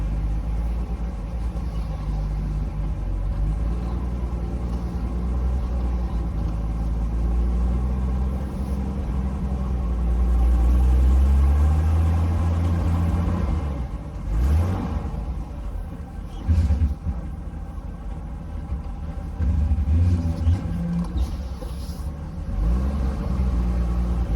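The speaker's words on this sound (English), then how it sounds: "I'm going to take it for a ride and see how the power steering fluid being added helps it" Jeep Wrangler YJ engine driving after power steering fluid was added, a steady low rumble that swells briefly around the middle, with a few bumps and thumps, alone throughout.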